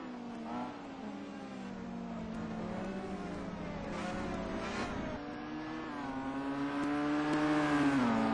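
A redshiftnews.com racing car laps the Donington circuit, its engine whine rising and falling through gear changes and swelling louder toward the end as it draws nearer.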